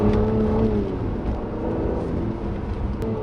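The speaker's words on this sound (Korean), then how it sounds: "역시 가속 페달을 이렇게 툭툭 쳐주는데요," A 2016 Mercedes-Benz C450 AMG 4Matic engine revs as the accelerator is tapped, a steady, close engine drone with faint rising and falling tones, heard alone without talk.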